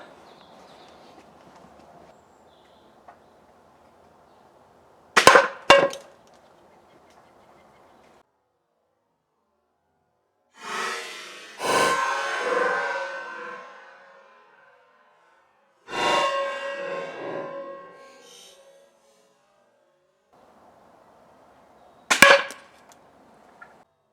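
Crossbow bolts are fired at a target during Cobra Adder and Vlad crossbow tests: sharp cracks of release and impact, a close pair near the start and another single shot later, with rustling, scraping bursts between them.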